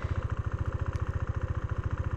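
A KTM Duke 390 BS6 motorcycle engine thumps at low revs with rhythmic, even pulses as the clutch is slowly released and the bike begins rolling without throttle, close and steady.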